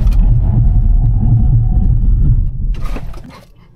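A Skoda Enyaq Coupe electric car brakes hard from 100 km/h to a stop, a loud steady low road and tyre rumble that fades away near the end as the car halts.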